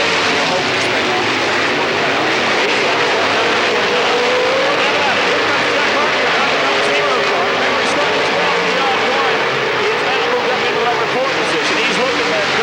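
Race car engines, including a Corvette racing engine, roar continuously around a speedway oval in 1994, a loud, dense, unbroken drone with an announcer talking over it.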